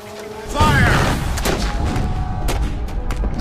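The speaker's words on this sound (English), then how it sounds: "Then the heavy iron cannon, and some thousands of small arms joined in and made the ground shake under our feet" A heavy iron cannon boom rolls out, followed by a rattle of scattered small-arms gunshots and crackling fire over a rumbling din, in a battle reenactment of New Orleans, War of 1812.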